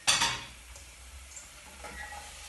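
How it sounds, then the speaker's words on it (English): Leeks and onion frying in a tablespoon of coconut oil in a pan, opening with a burst of sizzle and stirring clatter that settles into a quieter steady hiss. "That's all cooking off nicely in my pan with just a tablespoon of coconut oil"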